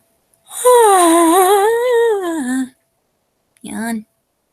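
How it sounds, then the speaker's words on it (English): A drawn-out human yawn with a wavering, groaning vocal tone lasting about two seconds, followed after a pause by a short second vocal burst, close and fairly loud. "Why do I make that sound every time I yawn?"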